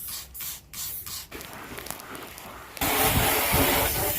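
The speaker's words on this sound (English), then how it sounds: "and then rinsing it off with a hose." A hose sprays water to rinse cleaner off the hull of a Sea Nymph 14R aluminium boat, starting in short bursts, then a steady loud hissing gush close by.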